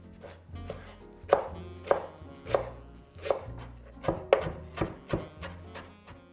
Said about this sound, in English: I'm going to fairly finely chop them